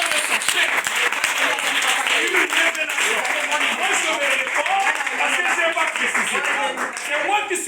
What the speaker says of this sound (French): On applaudit pour notre maman.